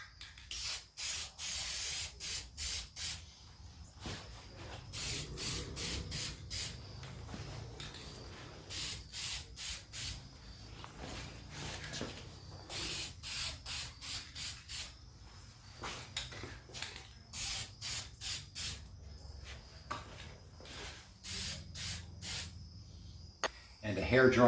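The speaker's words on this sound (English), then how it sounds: "A little bit of spray lacquer." Short hissing bursts of an aerosol lacquer spray can on wood, repeated many times with gaps between, fairly close.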